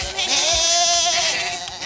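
A sheep bleats once in a short, wavering, nasal cry lasting under two seconds, close and fairly loud with nothing else around it.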